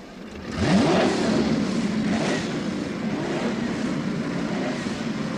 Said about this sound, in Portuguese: Liguem os motores.